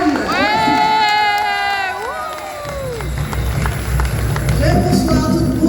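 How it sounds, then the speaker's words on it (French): An audience at a fair in Paris cheers and shouts for a performer, with a loud, sustained tonal voice or whistle at the start giving way to a noisy, excited crowd roar. "Voici des applaudissements pour Kozeika Panam"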